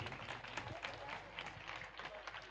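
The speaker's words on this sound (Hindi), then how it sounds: "एक बार थोड़ी ताली बजा दो वर्षा जी के लिए।" A devotional gathering's audience claps for Varsha ji at a Shyam bhajan event in Ratangarh, a faint, brisk patter of hands, low in level and fairly even.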